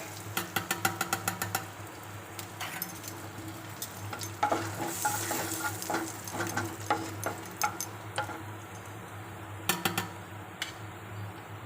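Cumin seeds fry in a small amount of hot oil, giving a steady, close sizzle broken by frequent sharp crackles and spatters, with a low background hum.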